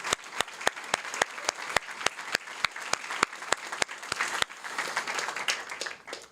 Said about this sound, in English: Let's give another round of applause for these exceptional students and Ms. Mohi.